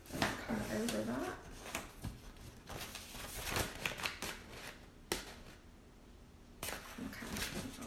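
Someone cuts an upcycled plastic paint bucket, making close, intermittent crackling and scraping rasps in uneven bursts, with a voice heard faintly in places.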